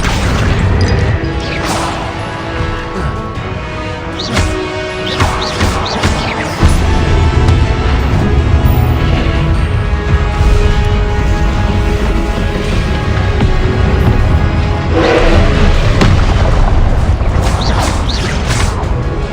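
Spell blasts and explosions from Hogwarts Legacy combat, a dense run of crashing impacts, whooshes and booms repeating throughout, loud and close with a busy, continuous game mix.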